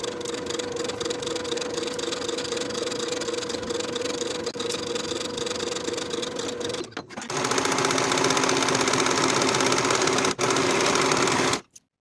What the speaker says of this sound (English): Now we'll sew our princess seams from the top to the bottom of the garment with a 3/8 inch seam allowance